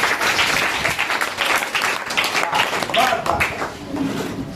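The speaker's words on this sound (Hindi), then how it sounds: "जरा तालियां बजा दें इनके लिए।" A classroom audience claps for a student who answered a math problem correctly, sustained dense clapping throughout, fairly close and loud, with some voices mixed in.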